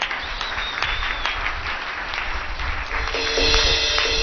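Church congregation at a Sunday morning service breaking into loud, sustained clapping, dense and steady applause from many hands filling the room, with faint voices mixed in.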